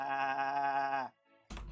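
A single sheep lets out one clear, sustained bleat lasting about a second, followed by a short pause and a brief burst of noise.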